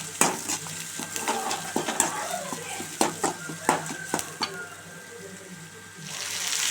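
Lentils, cumin, dried red chillies, onion and curry leaves sauté in a pan for a potato and ivy gourd stir-fry, a steady close sizzle broken by repeated scraping stirs and clinks of the spoon.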